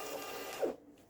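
A Jaden thermal printer prints an image, giving a brief, steady whirring feed noise that swells slightly and then cuts off quickly, leaving quiet room tone.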